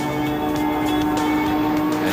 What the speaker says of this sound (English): It is filled with the sounds of engines and of excitement, the special excitement of Le Mans.